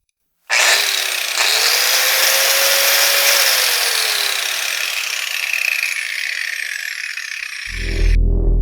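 A Hitachi G12SR3 angle grinder switches on and spins up to a steady, loud, high whine that runs unbroken for about seven seconds, then cuts off abruptly into a low thump.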